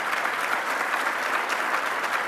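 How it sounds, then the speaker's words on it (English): Warm, steady applause fills a conference hall as an award recipient is honoured, a dense even patter of many hands clapping at once, continuous and fairly close for the brief stretch. "And you give a hearty applause to Anirban."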